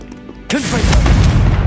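The Confringo spell goes off in Hogwarts Legacy as a single sudden, loud boom that rumbles on with a low, heavy tail after a quiet moment.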